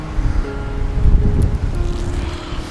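Strong gusting wind on the Arabian Sea coast roars and buffets the microphone, a loud, low rumbling rush that swells and fades over a few seconds with no talk.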